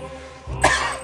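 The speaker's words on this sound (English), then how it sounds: "How long have you had that cough?" A single sharp cough from a man in a dramatized Cask of Amontillado scene set in damp, nitre-encrusted catacombs, close and abrupt, rising from quiet and trailing off briefly.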